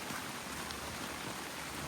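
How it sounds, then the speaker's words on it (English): Heavy rain pours steadily over a boardwalk trail, a dense continuous hiss of drops striking wood and surroundings, close and unbroken with no voices. "it starts really raining on me hard"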